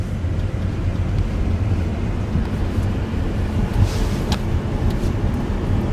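A car drives in normal driving mode with the accelerator pressed, a steady low engine and road rumble heard from inside, constant and moderately loud with no talk.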